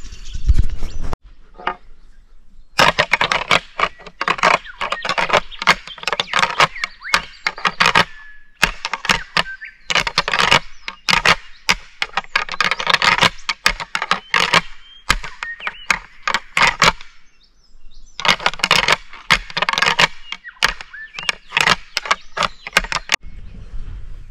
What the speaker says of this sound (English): I could hear other bucks start fighting just in ears.